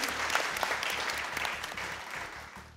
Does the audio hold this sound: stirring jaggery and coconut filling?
no